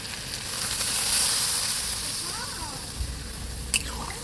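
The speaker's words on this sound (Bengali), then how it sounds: "এবারে আমি এর মধ্যে জল ঢেলে দিচ্ছি" Water poured into a hot pan of spice-fried vegetables for shukto, raising a steady broad hiss and sizzle, with a brief knock near the end.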